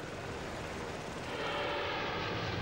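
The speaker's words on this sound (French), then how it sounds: "Dans le ciel de Kaboul, ce matin de juillet 2009, un gigantesque avion transporte 3 exemplaires de l'hélicoptère de combat Tigre" A giant transport aircraft carrying three Tigre combat helicopters flies over Kabul on a July morning, a steady broad engine roar filling the air and swelling slightly toward the end, with no talk.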